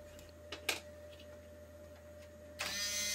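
A rewired servo motor drives a motorised photo turntable with no control board. It gives off a faint, steady mechanical hum with a few light ticks, then a louder whirring rise near the end.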